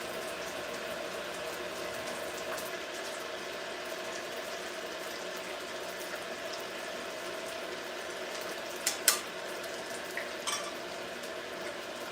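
Quiet, steady frying sizzle of crispy rolls in a pan with minimal oil, continuous and soft, with a couple of faint clinks near the end.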